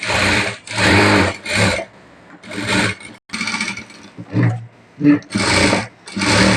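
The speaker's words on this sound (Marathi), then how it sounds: "आता इथे आपल्याला एक शिलाई पूर्ण टाकून घ्यायची" A sewing machine stitches a blouse neckline with a decorative border, running in loud, close bursts of rapid whirring with short pauses between runs.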